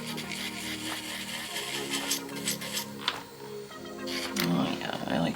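An electric nail file fitted with a small mandrel sanding band buffs 150-grit across gel nail tips, a thin steady whir and scrape running in short passes, quiet and close, with bursts of scratchy grinding.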